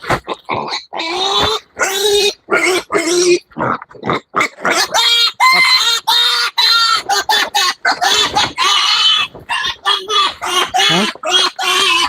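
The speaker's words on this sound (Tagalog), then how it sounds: "Lagyan natin ng butas para may ano tayo. May may paghingaan ang isang biik na yan." A piglet on a farm gives loud, repeated squeals in rapid bursts throughout, close to the listener, with some talk mixed in.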